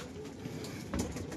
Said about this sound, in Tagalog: Ito, 5 pirasong kalapati na lang ang nandito.